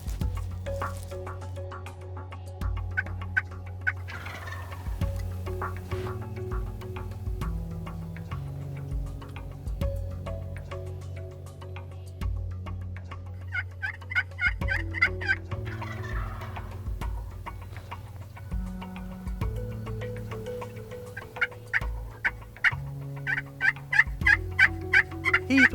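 Wild turkeys gobble repeatedly in a hunting field of eastern and Rio Grande hybrid birds, loud bursts recurring throughout over a steady tonal bed, with no talk.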